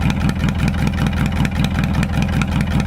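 A car engine with a leaky head gasket and new exhaust idles loud and close, its lumpy, uneven firing pulsing steadily with no talk over it.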